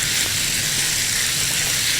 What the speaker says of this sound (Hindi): ये शामिल करने के बाद इसको आपने अच्छा सा फ्राई करना है ताकि चिकन का कलर चेंज हो जाए